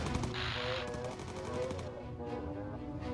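Rapid machine-gun fire from aircraft turrets in the video game Bomber Crew, dense rattling bursts over a steady engine drone, fairly faint throughout the short stretch.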